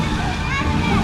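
Water splashing and sloshing in a city fountain in Kaliningrad, with children playing in it, a dense wash of spray under a background babble of voices, near and steady for a moment.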